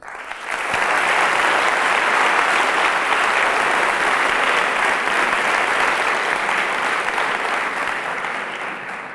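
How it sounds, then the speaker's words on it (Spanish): Audience at a talk on corruption and impunity in Equatorial Guinea breaks into loud, sustained applause for Guatemala, a dense even roar of clapping that rises quickly and holds to the end. "Guatemala se merece un gran aplauso por eso"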